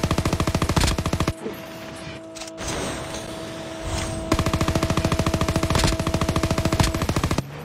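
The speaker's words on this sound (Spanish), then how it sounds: "¡No te quedes parada disparando!" Rapid automatic gunfire from a battle royale video game, loud bursts of machine-gun fire at the start and again through the second half, with a quieter gap in between.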